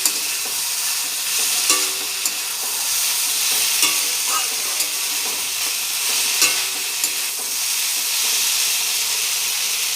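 Potatoes, brinjal, dhenki greens and dried fish fry in a hot pan with loud continuous sizzling, broken by scraping clinks of a spatula stirring at irregular intervals, close up and without talk.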